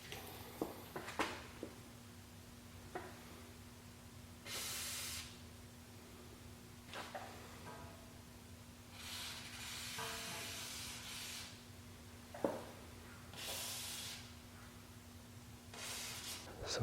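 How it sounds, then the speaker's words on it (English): WD-40 silicone spray applied to suspension joints and bushings on a Toyota Land Cruiser 200, several separate short hissing aerosol bursts with pauses between, over a low steady hum and a few clanks. "And then we're going to spray some WD-40 silicone on most of the joints, especially joints with bushings."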